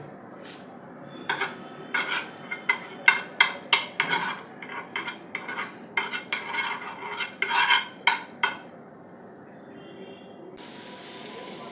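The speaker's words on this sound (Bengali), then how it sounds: "এতে ঘি দিয়ে আমি একটুখানি ফ্রাই করে নেবো" Bread pieces fry in ghee as a utensil repeatedly scrapes and clinks against the pan turning them over, an irregular run of close metallic strokes over a soft sizzle that settles into quiet frying.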